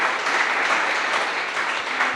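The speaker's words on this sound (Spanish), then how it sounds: "Dele un fuerte aplauso al Señor." Loud, dense applause fills a church congregation at a service, with continuous clapping from many people, steady and sustained throughout.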